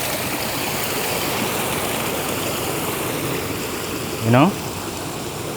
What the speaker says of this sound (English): they sense your motion as you move besides them, and then the water starts to pop out